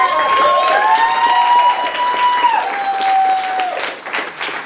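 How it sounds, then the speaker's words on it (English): At an improv class show, an audience applauds and cheers in a dense burst of clapping that fills the room, with a few whoops on top, fading slightly toward the end. "Give yourselves a round of applause for being here."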